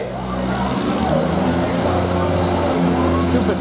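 Demolition derby cars grinding and ramming at a county fair derby heat, engines roaring loud and steady throughout with occasional thuds and crowd noise mixed in, a voice talking over the din.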